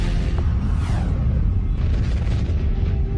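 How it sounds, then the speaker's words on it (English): Deep, rumbling explosion effect for a star's gamma ray burst, a loud, sustained low boom with a sweeping whoosh that fades through a few seconds, with no voices over it. "This is a gamma ray burst, the biggest explosion to rock the universe since the Big Bang."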